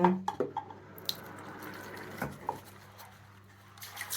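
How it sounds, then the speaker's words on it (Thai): Sprouting mung bean sprouts get rinsed with water again. Close splashes and drips come at the start, then a trickling, pattering flow with a few clinks. "ใส่ไปนะจ๊ะก็ล้างอีกครั้งหนึ่ง"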